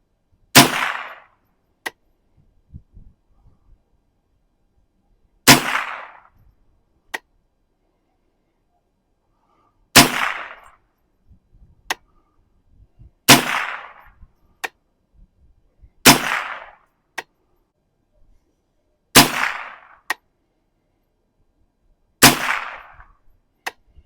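Rifle shots fired at a 50-yard range while testing a CVLIFE EagleFeather 4-16x44 scope, seven sharp loud cracks spaced several seconds apart, each followed by a faint metallic ping and light handling clatter.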